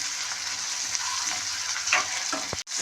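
Onions and tomato fry together in a pan for a mushroom curry, an even hiss of sizzling with a few scraping stirs and a sharp tap just before a brief cutoff.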